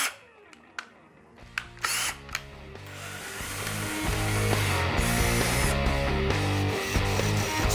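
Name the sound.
drilling pilot holes with brad point drill bit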